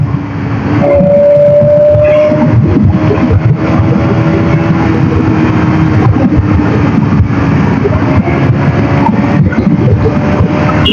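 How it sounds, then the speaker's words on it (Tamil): A KTM 200 motorcycle accelerating in fifth gear, a steady loud engine drone with strong wind rush and a faintly rising tone held throughout the ride, with no talk over it. "5th கியர்ல எவ்வளவு போகுது அப்படின்னு சொல்லிட்டு சும்மா செக் பண்ணி பார்ப்போங்க."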